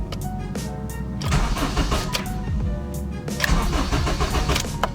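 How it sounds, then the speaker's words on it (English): An Acura RSX Type S widebody turns over on its starter but fails to fire, cranking in two bursts with a short pause between, close and loud with no one talking. "I did not expect it to crank."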